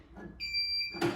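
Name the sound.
jumper pack beeping overload warning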